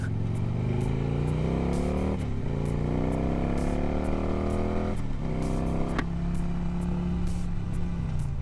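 A motorcycle being ridden on local roads, the engine droning steadily and rising in pitch through several gear changes, close and continuous throughout.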